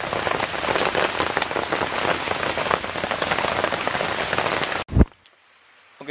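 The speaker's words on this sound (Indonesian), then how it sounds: "Namun di gua nih hujan, dingin banget, teman-teman." Steady rain falls hard and close at a cave campsite, a dense continuous patter that cuts off abruptly near the end with a short thump.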